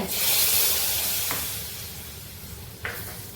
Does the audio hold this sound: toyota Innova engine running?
no